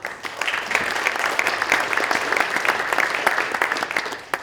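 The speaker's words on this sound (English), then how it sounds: "Let's give them a round of applause." A steady round of applause from an audience at a community livability event, many hands clapping densely at even volume throughout.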